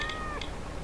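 Cartoonish cat meow from the video game Bad Rats, a single short falling cry with a brief second yelp, alone with no talk, close and clear.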